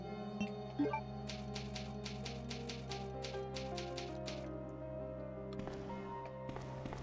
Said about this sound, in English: It's an old typewriter.